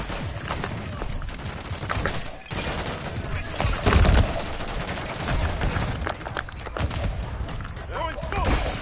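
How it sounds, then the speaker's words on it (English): Dense gunfire and explosions in Call of Duty: Modern Warfare III, rapid shots, booms and grenade blasts layered in a chaotic firefight, with shouted voices mixed through the battle. "Taking fire!"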